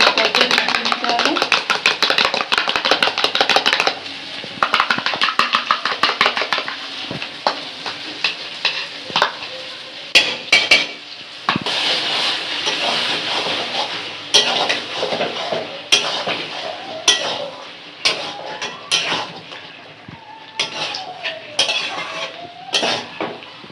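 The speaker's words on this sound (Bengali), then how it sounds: "টক দইটা এখন ভালো ফেটিয়ে নিতে হবে।" Sour yogurt (curd) whisked briskly in a bowl with a spoon, a steady run of rapid clinking and scraping strokes, close and fairly loud, with brief pauses between bursts.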